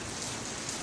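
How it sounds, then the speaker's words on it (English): Heavy rain pours steadily in Islamabad, Pakistan, a dense, continuous hiss of downpour hitting surfaces with no pauses or voices. "You are looking at the rain. The rain after a very long period of time,"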